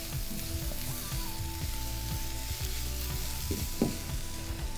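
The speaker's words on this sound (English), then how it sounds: "I just decided just to give it a light saute." Vegetables for a fish pie sauté in a pan with a steady, moderate sizzle, broken by a few soft stirring scrapes and knocks near the end, with no voices.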